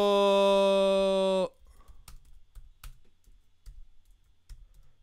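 A loud steady tone cuts off, then sparse, light computer keyboard clicks tap irregularly at close range during a live fantasy football stream.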